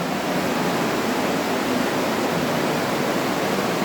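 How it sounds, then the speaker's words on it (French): Water rushes loudly at the underground source of the Agly river in a cave, a dense, even roar that fills the space without a break. "il y a beaucoup de bruit. Étant donné qu'il y a beaucoup d'eau"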